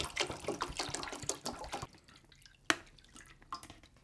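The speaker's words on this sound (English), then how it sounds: "you let it stay in its place and you fill it with water, as we're gonna do right now" Water is poured into the tank of a Meraki espresso machine, with splashing and trickling at close range that trails off into a few scattered drips.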